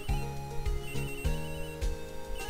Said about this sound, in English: It's a lot of phone calls.